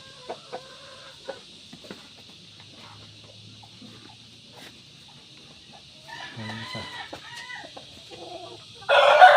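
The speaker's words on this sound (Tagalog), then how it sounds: "Malalaking manok." Large chickens on a Filipino poultry farm, hens clucking in scattered bursts with a rooster crowing, mostly faint and sparse at first, then growing busier and louder toward the end.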